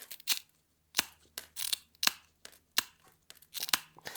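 SeaBell mosaic nippers snap through glass to shape a rough circle, a steady series of crisp close cracks and crunches about every half second, with no one speaking.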